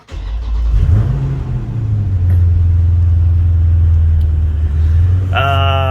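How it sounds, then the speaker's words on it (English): A 2020 Dodge Challenger Scat Pack engine cranks and starts, then settles into a steady, loud idle rumble close by, followed by a brief chime at the end. "I need to start my car up"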